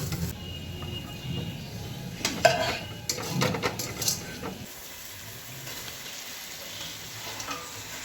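Mutton stirred and frying in a pot, a spoon scraping and clinking against metal over a soft sizzle for several seconds before the stirring stops and a quiet hiss remains, close, no talking.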